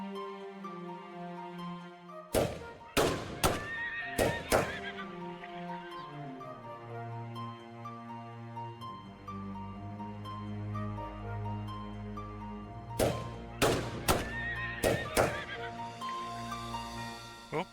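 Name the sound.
horses neighing in the video game FreeCol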